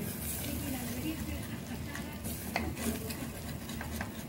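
Flour is whisked into melted butter in a pan to make the white sauce for a lasagna, giving a soft, steady scraping and stirring with faint sizzle and a few clicks, while a person talks over it.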